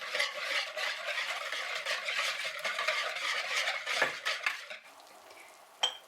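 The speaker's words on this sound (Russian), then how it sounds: "Замешаем." Sugar and a couple of spoons of flour are stirred together in a bowl for salted dill ring dough, a busy scraping and clinking of a utensil against the bowl that trails off near the end.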